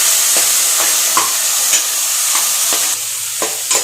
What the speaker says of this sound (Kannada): ಟೊಮೆಟೊನ ಹಾಕ್ಕೊಂಡು ಫ್ರೈ ಮಾಡ್ಕೊಳ್ತೀನಿ